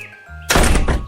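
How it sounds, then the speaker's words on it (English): A wooden house door bangs shut, a single loud, hollow thump after a brief quiet creak. "closed his door with a bang"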